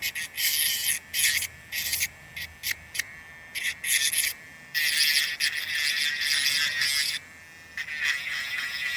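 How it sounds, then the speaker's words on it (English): Polishing compound rubs wax off a bare steel lock part in quick, repeated scrubbing bursts with short pauses between strokes, close and fairly loud. "you literally see the wax coming off from the polish"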